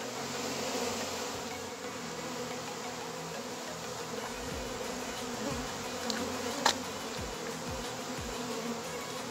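Wild bees swarm around large honeycombs, a dense continuous buzzing at close range with individual bees droning nearer and farther, and a brief knock partway through.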